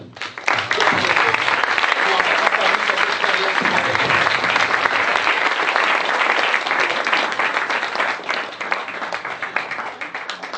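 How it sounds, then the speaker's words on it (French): A live audience at a stage hypnosis demonstration of past-life regression gives a long, loud burst of clapping. The applause holds steady for around ten seconds before easing slightly, with a few faint voices beneath it. "on peut vraiment, vraiment l'applaudir"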